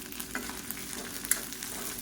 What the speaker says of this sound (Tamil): இது வெங்காயம்லாம் நல்லா கலர் மாதிரி வதங்கட்டும்.